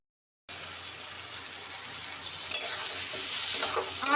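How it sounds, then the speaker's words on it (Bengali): Ridge gourd frying in a pan and being stirred, a steady close sizzle with a few scraping stirs near the end, no talking. "আরও 2-3 মিনিট আমি এইভাবে নেড়ে নেব।"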